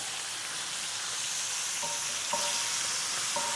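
New York strip steaks sizzle loudly in a pan right after being flipped. The frying is a dense, constant hiss with brief crackles and spits now and then, and no one talks.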